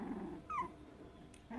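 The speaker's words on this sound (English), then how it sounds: "Play growling." Three-week-old Cocker Spaniel puppies play-growl at close range, a couple of short, soft rumbling growls with a brief high whimpering yip between them, fairly quiet overall.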